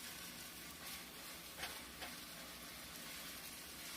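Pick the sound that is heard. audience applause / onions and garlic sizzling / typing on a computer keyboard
onions and garlic sizzling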